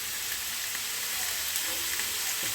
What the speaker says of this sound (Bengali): এদিকে মাংসটা তো ভাজা হচ্ছে,